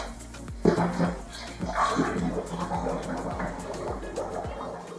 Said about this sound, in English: it's time to completely submerge our vapor in fresh water